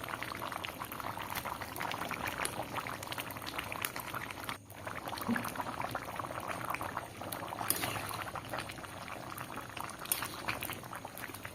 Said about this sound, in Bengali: এবার সুন্দর ফুটে উঠেছে ঝোলটা, দেখো কত সুন্দর লাগছে।